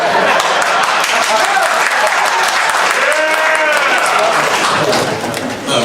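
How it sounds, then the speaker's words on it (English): Brief, scattered applause from the audience at a Chiller Theatre Land of the Lost fan Q&A panel, steady and fairly close for several seconds before tapering off near the end. "Oh, now that's a pity clap."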